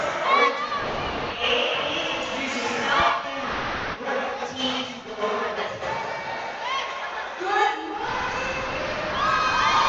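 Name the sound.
pep squad cheering at sports opening ceremony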